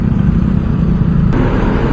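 Steady low rumble of road traffic, a continuous engine drone from passing vehicles with no voices.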